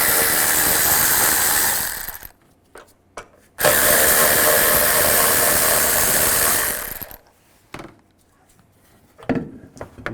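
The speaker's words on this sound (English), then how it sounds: "Take these 2 10mm bolts out." A power tool whirs in two loud, close bursts while removing two 10mm bolts with a 10mm socket on a 2010-2017 Chevy Equinox, followed by quieter clicks and handling noises.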